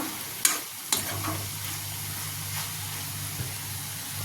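Chicken curry seasoned with coriander, cumin and garam masala being stirred in a hot pan, a soft sizzling hiss with a couple of sharp utensil knocks near the start, close by.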